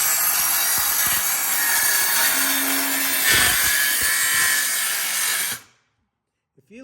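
Handheld circular saw with no dust discharge cutting through wood, a loud continuous whine and rasp for over five seconds before the blade cuts off abruptly into silence and a faint click.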